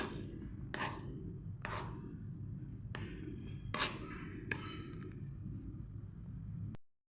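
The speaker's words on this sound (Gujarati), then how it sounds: "બેટરને હવે આપણે થોડું હલાવીને સારી રીતે મિક્સ કરી લેવાનું છે।" Thick khandvi batter, just taken out after cooking, is stirred to mix it smooth, giving a steady series of scraping strokes roughly every second over a constant low background hum, with no talking.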